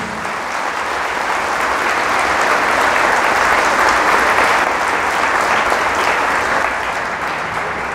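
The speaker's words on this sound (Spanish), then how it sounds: "Fuertes aplausos al Señor Jesús." Loud, sustained applause from a church congregation, a dense, even wash of many hands clapping that holds steady throughout with no voices standing out.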